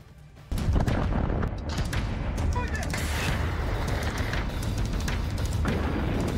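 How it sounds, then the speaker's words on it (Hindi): Explosions and artillery fire in the Russia–Ukraine war, heavy booming blasts and rumbling bursts following a sudden loud onset, with a voice talking over them. "धमाकों के बीच, हवाई हमलों के बीच"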